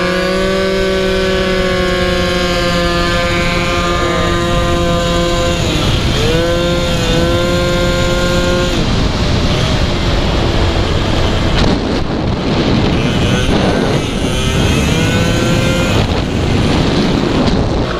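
A 120cc stroker Honda Elite scooter revs up and down in repeated rising and falling whines, loud and close, mixed with heavy wind rush as it rides outdoors.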